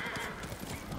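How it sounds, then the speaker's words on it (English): A horse in Ghost of Tsushima clip-clops briefly over a steady game soundscape, its hoofbeats soft and quick. "Let's go with the horsey."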